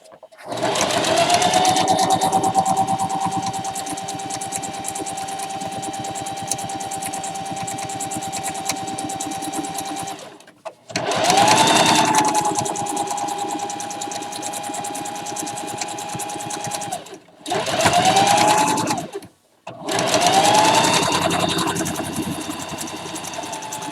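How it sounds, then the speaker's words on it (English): A sewing machine runs fast in long continuous bursts while stitching an egg gathering apron, its steady whirring motor whine rising at each start, with short pauses between runs and no talking. "this machine wants to go. I have to make it slow down"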